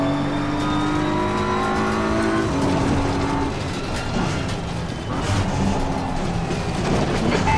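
Race car engines drone loudly in a racing video game, with several cars running close together and their pitches shifting and overlapping under a steady roar.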